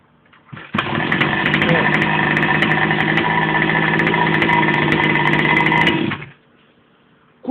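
A Goped scooter's 29cc engine fitted with an easy starter fires after one brief pull, then runs in a loud steady buzzing idle for about five seconds close by before cutting off abruptly.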